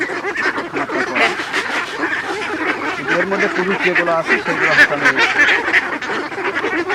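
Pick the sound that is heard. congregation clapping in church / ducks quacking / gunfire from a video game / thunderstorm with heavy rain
ducks quacking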